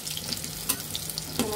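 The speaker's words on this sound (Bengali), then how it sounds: "এভাবে আমরা বাকি সব কয়টি এক সাইড ভেজে নিব।" Eggs fry in a hot pan with a steady, close sizzle and light crackle, broken by a few soft scraping stir sounds, with no voices.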